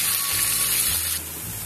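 Onions fry in a pan for bhuna keema, giving a steady hissing sizzle that is fairly loud and close, then eases slightly near the end, with no talk.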